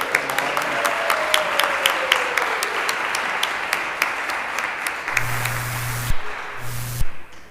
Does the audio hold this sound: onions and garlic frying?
no